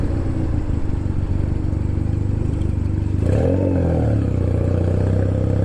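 A loud beginner motorcycle engine runs steadily while riding, a continuous heavy drone with a brief rising rev partway through, close and dominant with no voices.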